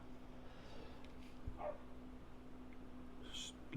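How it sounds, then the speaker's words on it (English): A dog barks in a backyard, a few short, distant barks that stay faint under a steady hum and background noise. "apologize if you can hear the dog in the backyard"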